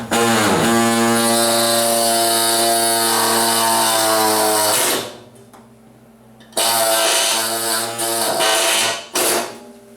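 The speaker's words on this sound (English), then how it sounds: "I'm going to get my grinder or cutter." Grinder or cutter whines at high speed while cutting off welding wire on the driver's floor pan of a 1977 Camaro Z28, a loud sustained tool scream that stops, then restarts in two shorter bursts.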